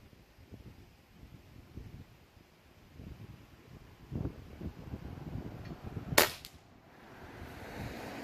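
A single sharp crack from a PCP air rifle fired at a target rings out, standing alone against soft wind noise and faint rustling.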